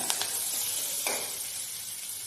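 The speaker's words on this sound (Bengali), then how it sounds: "2 মিনিট একটু নাড়াচাড়া করে নিয়েছি মশলার মধ্যে" Chicken pieces sizzle in a kadai with spices while being stirred for a spicy kadai chicken, with a loud, continuous close hiss and a brief scrape partway through.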